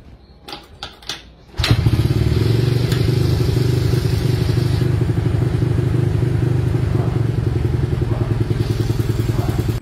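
A few light clicks and knocks, then a motorcycle engine with a leak starts and idles with a loud, steady, rapid putter close by.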